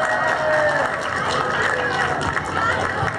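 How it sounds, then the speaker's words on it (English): A crowd at a tree lighting event in Port Reading claps and cheers for the mayor in a steady, dense wash of noise, with voices mixed in throughout. "So how about a nice round of applause for the mayor?"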